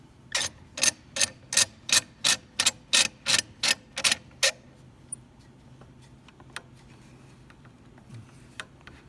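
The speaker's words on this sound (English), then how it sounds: "I'm going to put one clamp high, and then I'm going to put one clamp low." Clamps are ratcheted tight on a guitar side form: a rapid series of about a dozen sharp, evenly spaced clicks, then quiet with a few isolated taps.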